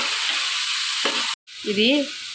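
Ginger garlic paste fries in a pan with onion paste for a fish curry, giving a steady loud sizzle, then a short break, then a stirring scrape and another sizzle, with faint voice-like sound near the end.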